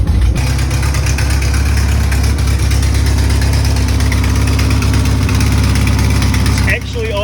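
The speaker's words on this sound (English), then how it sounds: "But she's idling." A Mini car engine idles up close with a loud, steady, vibrating rumble, running evenly for several seconds before cutting down sharply near the end.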